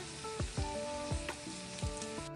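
Rani fish frying in oil in a pan, a steady bright sizzle broken by a few low thumps and clinks as pieces settle or get nudged, close and fairly loud with no voices.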